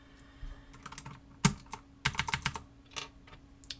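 Clacky mechanical keyboard typing in irregular bursts of keystrokes, close and crisp, with brief pauses between flurries; no voices.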